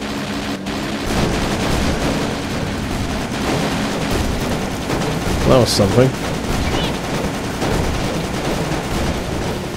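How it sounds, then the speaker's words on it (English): A rapid-fire machine cannon in the vehicular combat video game Death Skid Marks chatters continuously amid game explosions and engine noise, loud and dense throughout, with someone speaking briefly over it. "wow, the machine cannon is really fast now"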